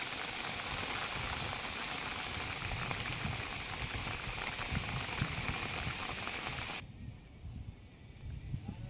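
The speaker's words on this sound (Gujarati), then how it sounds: "બગસરામાં સતત વરસાદ છે" Heavy continuous rain driven by wind from Cyclone Shakti pours over Amreli, a dense steady hiss and patter that suddenly thins to a quieter wash near the end.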